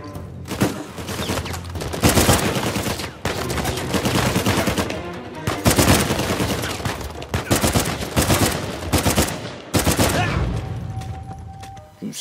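Burst-fire weapons in the PlayStation 4 game Uncharted 4: A Thief's End, loud, dense volleys of gunfire in repeated clusters, near and dominating, with brief gaps between bursts.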